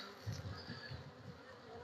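Honeybees buzz inside an opened hive during an inspection of a young swarm colony. The buzzing is soft, close and steady, with slight swells and no voices.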